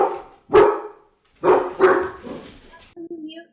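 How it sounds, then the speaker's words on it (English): A dog barks in the background of an online meeting, several sharp barks spaced through the moment, moderately loud, with people talking around them. "Sorry, I heard a dog."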